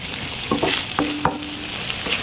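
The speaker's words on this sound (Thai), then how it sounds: "ผักผัดให้สุกหน่อยนึงนะจ้า" Chinese kale with fresh shrimp stir-fried in a pan, a dense steady sizzle with a few sharp spatula knocks and scrapes close by, no voices.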